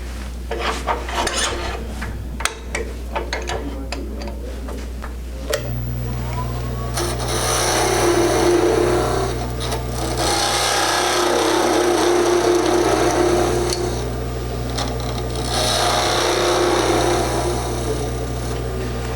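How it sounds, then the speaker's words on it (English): A wood lathe hums steadily throughout while a tool parts off a Christmas ornament, scraping and rasping against the spinning wood in long, loud passes, with sharper clicks early on. "I'll part this off to make it flat"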